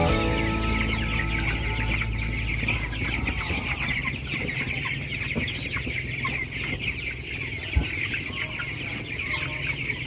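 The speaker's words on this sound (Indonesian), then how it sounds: "kita langsung saja lihat kondisi ayam yang di atas" Twenty-day-old broiler chickens cluck and chirp continuously in a closed poultry house holding about 3,000 birds, a dense flock chorus over a constant low ventilation hum, with one brief louder knock.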